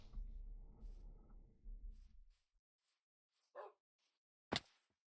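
A dog in a modded survival video game barks a few times, sharp yips sounding moderately close after a stretch of low rumbling, with quiet gaps between them.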